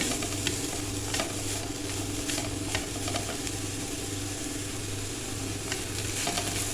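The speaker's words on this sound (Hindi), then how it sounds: "अब इसमें डालेंगे बंद गोभी। ये तकरीबन हाफ कप है मेरे पास। इसको भी थोड़ा सा भून लेंगे।" Shredded cabbage is stir-fried in a pan, giving a loud continuous sizzle with a steady hum beneath and frequent scraping taps of a spatula, with no talking.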